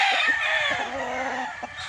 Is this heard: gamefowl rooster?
yes